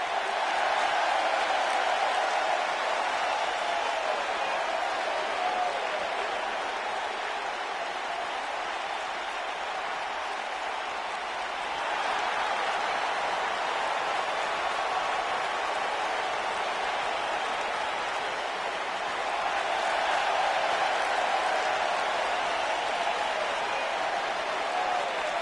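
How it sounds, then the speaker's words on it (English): Arena crowd in the WWE 2K19 wrestling video game, a steady roar of cheering and chanting that swells and eases in long waves throughout. "the crowd is chanting for the Lucha Dragon"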